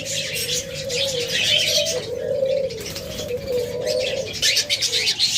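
Caged pet budgerigars, cockatiels and lovebirds chirp and tweet together in a busy, continuous chorus, close and fairly loud.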